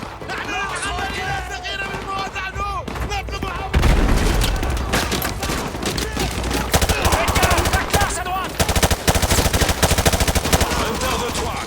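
Heavy automatic gunfire and explosions from the 2009 video game Modern Warfare 2, loud rapid bursts and booms filling the scene continuously, with soldiers' voices shouting through the battle.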